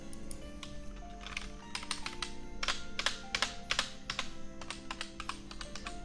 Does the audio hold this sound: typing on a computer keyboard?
yes